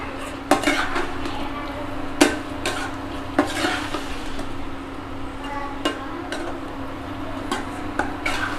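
A spoon stirs thick kadai sabji gravy in a metal pan, with loud clanks and scrapes against the pan over a low bubbling simmer and a faint steady hum behind it.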